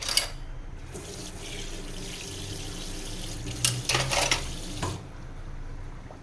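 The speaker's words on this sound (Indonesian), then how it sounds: "Kita kasih air sedikit." Water pours from a tap while a little is added to sugar in a pan for caramel pudding, a steady close running stream with brief louder splashes and sizzling near the end, then it stops.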